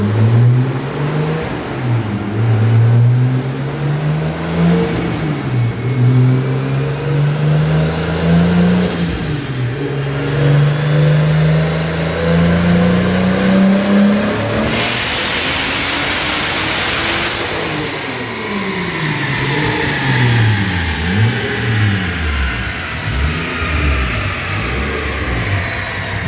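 Big-turbo 2JZ engine in a MK4 Toyota Supra revving hard through the gears on a drive, loud and close, with rising and falling engine tones and a sharp high-revving pull near the middle.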